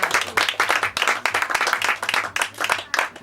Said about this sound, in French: je vous demanderai d'applaudir très fort les auteurs de ce spectacle